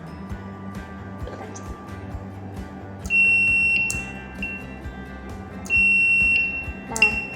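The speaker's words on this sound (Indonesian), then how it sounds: "Saat kita tekan dia, buzzer nyala." An electronic buzzer driven by an Arduino sensor input through a PLC relay gives two loud, steady high-pitched tones, each about a second long, over a background of rhythmic machine hum and faint voices.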